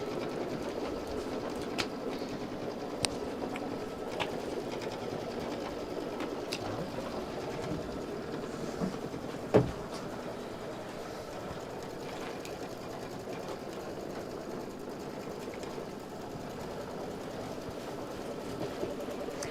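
An embroidery machine stitching a pin cushion and thread design runs as a steady, even mechanical whir throughout, with faint rhythmic clatter and a brief louder click partway through, no talking.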